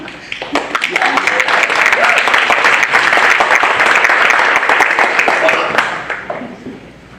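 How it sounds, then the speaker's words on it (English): Sustained applause from a seated audience at a church synodality session, a dense even wash of clapping that swells quickly, holds for several seconds and tapers off, with no talk over it. "You can clap if you want."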